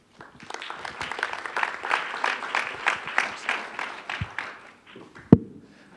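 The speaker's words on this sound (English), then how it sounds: "let's give one more round of applause to all those startups that pitched today" An audience at a tech center startup summit applauds after a startup pitch, giving a steady round of clapping that builds and then tapers off, ending with a single sharp knock.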